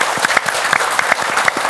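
An audience at a Buddhist talk show gives steady applause, dense close clapping from a crowd that fills the whole moment at high volume.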